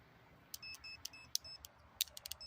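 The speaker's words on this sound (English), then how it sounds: "It's got beeps" A Centech 6-function CAT III clamp meter gives a series of short, high electronic beeps, some single and some in quick clusters, sounding over a faint low hum.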